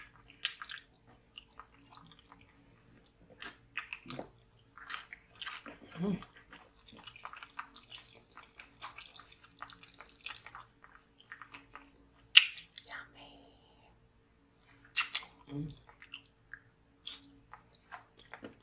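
Pig feet and jalapeno peppers being chewed close up in a soft, wet, squishy way, with scattered bites and smacks across the clip and a few sharper crunches, under occasional quiet talk.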